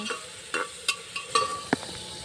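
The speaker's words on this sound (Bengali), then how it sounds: "তারপরে হলুদটা দিয়ে দিচ্ছি, ভালো করে নাড়ছি।" Spice paste with turmeric, cumin, ginger and dried chilli frying in hot oil over high heat, stirred with a spoon: soft steady sizzle broken by several sharp scraping knocks against the pan, close and fairly quiet.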